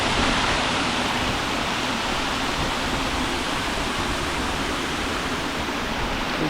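Water tumbles down a cascade at Sherwood Creek Falls in New South Wales, Australia, a steady, loud, full-bodied roar of falling water that holds unbroken from start to finish with no voices over it.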